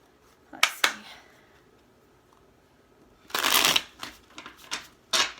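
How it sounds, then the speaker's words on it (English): Tarot cards shuffled by hand in bursts of crisp riffling and slapping, two quick sharp bursts, a pause, then a longer louder run with a few more riffles, close and alone. "So I'm just going to shuffle a few more times."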